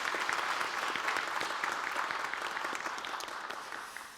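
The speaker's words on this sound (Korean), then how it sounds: "우리 격려의 박수 한번 하겠습니다." A church congregation gives a round of encouraging applause for the worship leader, accompanists and singers: dense, even clapping with individual claps audible, steady at first and then tapering off.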